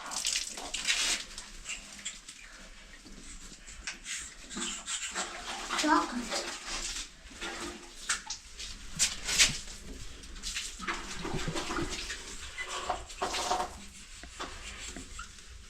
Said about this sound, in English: So then I'll pour water inside there.